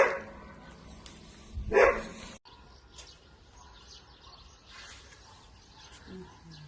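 In Fier, Albania, a dog gives one loud, close bark burst, followed by quieter outdoor ambience with faint bird chirps and distant sounds.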